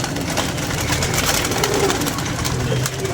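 Pigeons cooing close by, soft repeated throaty coos over a dense rustling background with a faint engine hum.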